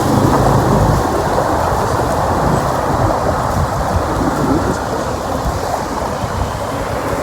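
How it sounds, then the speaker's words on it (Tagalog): Heavy rain with a thick, steady roar and deep rumbling thunder during a beach outing, loud and continuous with no voices. "Oh! Ulan na talaga guys."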